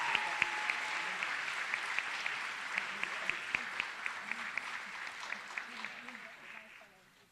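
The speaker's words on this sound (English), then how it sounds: "Please join me in recognizing their accomplishments with an additional round of applause." Steady applause fills a high school recognition night hall, a dense patter of many hands clapping at a moderate distance, with a few sharper claps standing out before it thins and fades away at the end.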